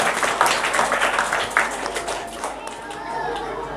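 Audience clapping and cheering at a Teachers' Day celebration to welcome a teacher, dense and steady for several seconds with children's voices and chatter mixed in.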